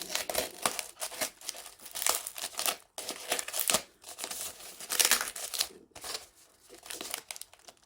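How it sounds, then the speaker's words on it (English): Repeated crinkling and snipping as scissors cut open a heavily taped mail package, in short bursts with brief pauses, close by and fairly loud, with no talking. "Oh, I'll have to use my scissors to open this."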